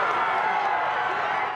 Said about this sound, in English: jubilation in the courtyard outside the Hennepin County Government Center as a crowd of hundreds heard the 3 words